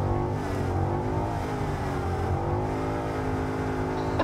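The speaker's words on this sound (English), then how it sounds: "listen to that wonderful V8 engine into the quick right-hander" Ford Mustang GT V8 engine revving hard as the car accelerates up through the gears on a track, loud, close and continuous with a rising and falling tone and no talking.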